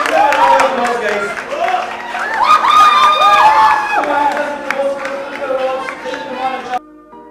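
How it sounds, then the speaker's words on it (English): A quiz event audience claps and cheers, with loud crowd shouts and whoops swelling and fading, tonal voices or music rising over the noise before an abrupt cutoff near the end. "Give them a round of applause, guys"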